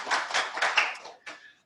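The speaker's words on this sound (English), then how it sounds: "So a round of applause, please, for the good folk who've done so well." Applause from the audience at an annual general meeting, a burst of clapping about a second and a half long that fades, then a short final flurry.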